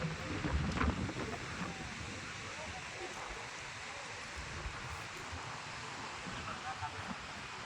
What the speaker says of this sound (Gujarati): દરિયાકાંઠે કેવો પવન આવે તમને